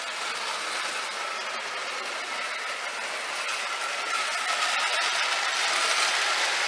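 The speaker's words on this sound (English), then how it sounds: "so I am always having to drive the train" A Marx No. 999 toy electric train engine running on a track layout, with a steady, faint mechanical whir and hum that holds throughout and grows slightly louder toward the end, with no voices.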